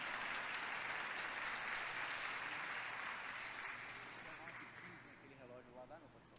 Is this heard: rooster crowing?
no